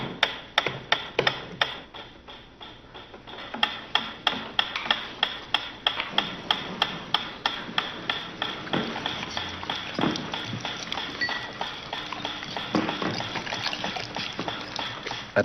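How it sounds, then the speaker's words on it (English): Ticking metronome in a reconstruction of a classical conditioning experiment, a steady run of sharp clicks, with other clattering and faint background noise. "he introduced a stimulus that was totally unrelated to feeding. A ticking metronome."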